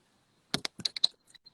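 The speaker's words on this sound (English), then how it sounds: "I'll go ahead and type that in the chat." Keyboard typing: a short burst of about eight crisp, close key clicks in quick irregular succession, then a few lighter taps trailing off in an otherwise quiet room.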